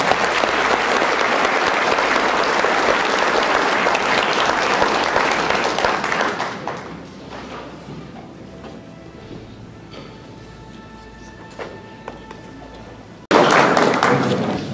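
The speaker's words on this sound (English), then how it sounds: "A round of applause, please." An audience welcomes a lecturer with a loud, full round of applause that fades out after about six seconds, leaving quiet room noise with a few scattered knocks, before a sudden burst of clapping returns near the end.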